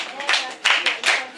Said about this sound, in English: Let's give her a big mosquito clap.